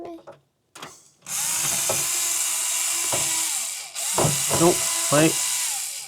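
A power drill drives screws during a studio rebuild in sustained, close, whirring runs with a short pause between them. Voices talk briefly over the drilling.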